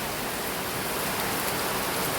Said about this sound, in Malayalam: നല്ല മഴ വന്നു ഗൈസ്.